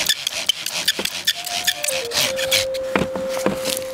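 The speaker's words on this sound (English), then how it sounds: "So, switch to bow drill power" Rhythmic wooden rubbing and rasping from a bow drill spinning on wood, with a rising squeak that settles into a steady high whine as the spindle spins.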